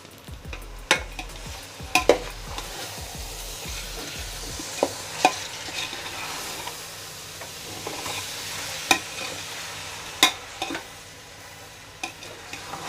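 Chicken frying with masala in a pan for dum biryani: a soft, steady sizzle broken by a series of sharp, close clinks and scrapes as the spoon stirs against the metal.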